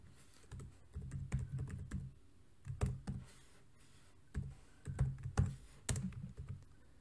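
Bursts of computer keyboard keystrokes while HTML code is entered, clusters of quick clicks separated by short pauses, close and fairly quiet with no talking.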